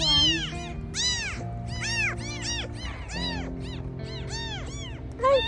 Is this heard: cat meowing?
yes